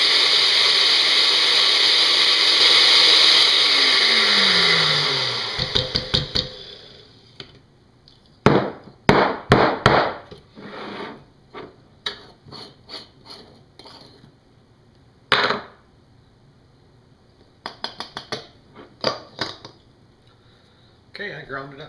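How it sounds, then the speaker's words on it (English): A blender grinds crisp dried banana peels, a loud steady whir for about five seconds that winds down, followed by scattered clunks and rattles. "So now we're just going to grind them up in the blender."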